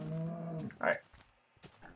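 A cow in the Minecraft video game gives a low, drawn-out moo up close, followed by a few faint clicks and game sounds.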